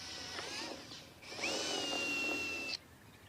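A power drill bores a hole through the side of a plant pot, a couple of centimetres above where a water well will sit; a short motor whine rises and holds steady for over a second, then stops abruptly, close and fairly loud.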